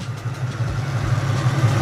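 A Foxbody Mustang's engine idles steadily before its V8 swap, a low continuous rumble with a slightly uneven pulse, heard close and alone without talk.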